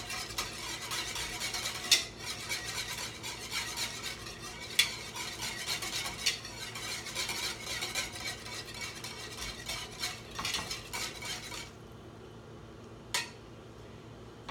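A whole-plant-based Leipziger Allerlei vegetable mix boils in a pot while a spoon stirs it steadily, with a few sharp clinks against the pot along the way. The stirring softens near the end and no one speaks.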